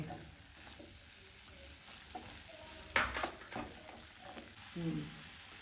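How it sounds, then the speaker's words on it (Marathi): A mix of vegetables, including okra, ridge gourd, cluster beans and pumpkin, is stir-fried in a pan. A quiet, steady sizzle plays throughout, with occasional spatula scrapes and clinks and one brief louder clatter midway. "एक एक करून आपण सगळ्या भाज्या आपण आता परतून घेऊया"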